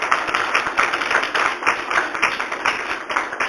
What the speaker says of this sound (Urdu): ہم خدا کی شکر گزاری کرتے ہیں اور خدا کے جلال کے لیے تالیاں بجاتے ہیں۔